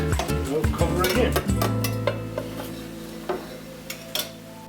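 A lid clanks onto a pan of broccoli rabe cooking on the stove, with a burst of metallic clatter at the start, then a low steady hum and faint scattered ticks.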